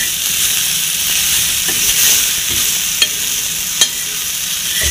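A chutney ingredient roasts in a dry pan, making a loud, steady sizzling hiss with a few sharp clicks of a stirring spoon against the pan.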